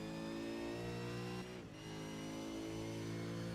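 A V8 race car engine in the iRacing sim at Road Atlanta holds a loud, steady high-revving drone, dipping briefly as it lifts off and then climbing back to full power.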